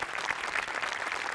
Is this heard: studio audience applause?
yes